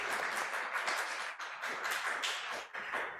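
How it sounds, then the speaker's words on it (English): A further round of audience applause at a gathering, a steady, even wash of many hands clapping at moderate level for the full stretch, with no talking over it. "one more little round of applause for our dear friend Joel and for Audacity."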